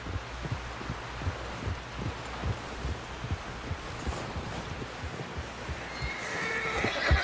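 A horse in the video game Red Dead Redemption 2, in the snowy Grizzly Mountains, neighs over a steady rhythm of low thudding beats, with wind-like noise rising near the end.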